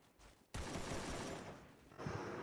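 Rapid gunfire from the Free Fire battle royale game, a sustained dense burst of shots lasting about two seconds after a brief lead-in, loud and close with no talking.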